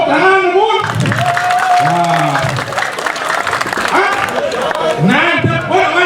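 An audience claps at a Balinese temple festival performance, with sustained applause and some cheering, mixed with a voice and tonal gamelan-like music throughout.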